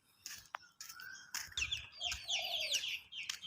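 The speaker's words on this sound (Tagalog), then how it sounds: "Dito maririnig mo mga huli ng ibon." Birds calling outdoors, a mix of clucking fowl and higher chirps and tweets with short sweeping whistles, fairly close and overlapping, plus a brief flutter of wings and faint background noise.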